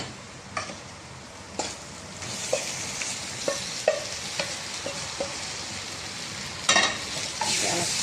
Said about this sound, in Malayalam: നമുക്ക് വെന്ത് വെച്ചേക്കുന്ന ലിവറ് ഇതിൻ്റെ അകത്തേക്കിടാം